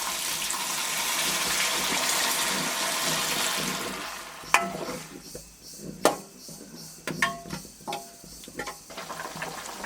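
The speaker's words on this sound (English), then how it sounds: "Now let's add some water and allow it to cook for another 10 minutes." Water poured into a pot of pork and arobak leaves cooking on the stove, a steady hissing gush that fades into quieter bubbling, then a few clinks and knocks of a spoon stirring against the pot.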